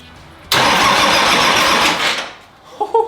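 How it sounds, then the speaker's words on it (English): A car engine that has sat unused for three and a half years cranks over. A sudden loud, steady churning starts after half a second and runs for about two seconds, then fades. "We're just gonna crank it and see if it turns over."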